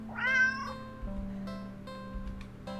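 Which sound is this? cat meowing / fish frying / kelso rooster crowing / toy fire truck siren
cat meowing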